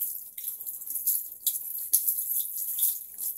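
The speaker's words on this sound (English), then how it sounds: "This is gonna be his last of the water." Water splashes and streams steadily with brief surges, close by and fairly quiet, a tap rinsing a dog in a bathtub; no one speaks.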